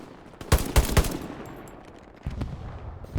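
Gunfire in a shooter video game, a quick burst of three sharp, loud shots followed by fainter, more distant shots and a later thud, with no talk.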